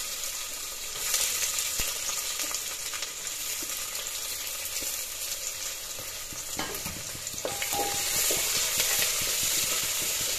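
Onions frying in oil with bay leaves, cloves, cardamom and cinnamon for a chicken curry, giving a steady close sizzle with occasional spoon scrapes and stirs, the crackle growing a little louder toward the end.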